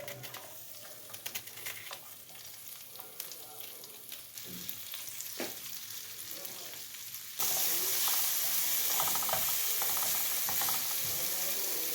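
Onion frying in a pan: a low, crackling sizzle with occasional stirring clatter that suddenly grows much louder and brighter partway through, then holds as a dense, continuous hiss.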